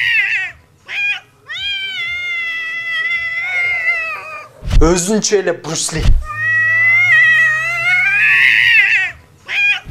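Angry cats fight, trading long, wavering yowls and caterwauls, with a sharp burst of spitting and hissing scuffle in the middle; someone talks over parts of it.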